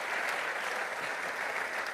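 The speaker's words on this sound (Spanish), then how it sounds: "Denle ese aplauso al Rey bendito" A congregation at a pastors' retreat in Argentina applauds continuously, a dense, even wash of many hands clapping at once, moderately loud and with no talking over it.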